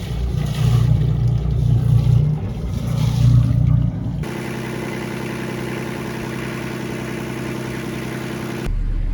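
A warmed-up engine settles back down to idle, first rougher and louder with some handling noise, then a steady even idle hum with a clear constant tone that holds to the end.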